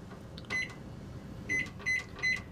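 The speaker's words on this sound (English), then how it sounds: "What are you microwaving?" A microwave oven heating popcorn in an office gives off a steady low hum, with four short, bright electronic beeps ringing out at intervals over it.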